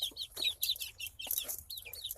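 Young chickens, cockerels and pullets, clucking and chirping in a busy overlapping chorus, close and fairly loud over a low background hum, with no speech.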